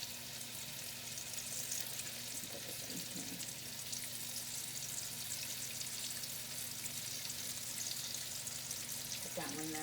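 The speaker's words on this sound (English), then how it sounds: "So this one is just put it down into the oil like that. Same thing with this one. And let those fry up a bit." Tacos dorados fry in hot oil with a steady, continuous sizzle across the whole stretch, fairly quiet and even, with a couple of brief clatters as pieces are set down.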